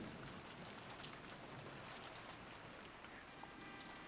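Rain pours at night in Rose Guns Days, a dense, steady hiss of drops spattering on surfaces, fairly soft and unbroken, with no voices over it.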